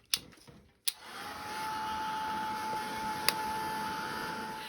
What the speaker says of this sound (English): Or you could give it a blast with the heat gun.